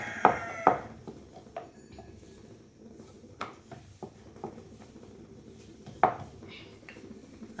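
A rolling pin works chapati dough on a board, giving soft rolling noise broken by a few sharp knocks and taps at irregular moments, close by with no talking.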